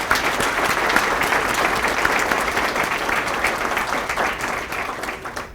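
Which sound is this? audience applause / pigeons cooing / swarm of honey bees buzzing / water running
audience applause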